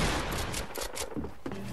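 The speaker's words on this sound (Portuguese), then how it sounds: "Eu erro todos os tiros" Rapid gunfire in a Fortnite match, a dense, loud fusillade of overlapping shots that continues through most of the short stretch before easing near the end.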